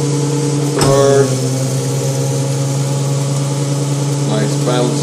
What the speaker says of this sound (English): nice bounce there going into the third, second, and first.